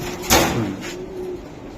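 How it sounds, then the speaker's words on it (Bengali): A racing pigeon from a 2024 club race gives a drawn-out coo, preceded by a sharp rustle or knock, then fades into quieter background noise. "এই যে 2024 বিআরপি ও ক্লাবের কবুতর"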